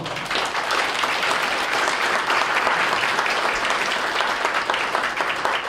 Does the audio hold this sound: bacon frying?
no